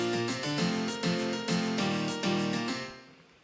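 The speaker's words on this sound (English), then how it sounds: "and then I've added the shaker loop as well" A shaker loop ticks steadily in a tropical house track, layered over sustained, pulsing synth chords with a regular beat; loud and full, fading at the end.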